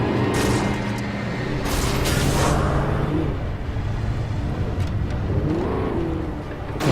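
A Forest Ranger truck in the Alan Wake video game drives and revs with a steady, loud engine roar, swelling in bursts over about seven seconds, with no talking.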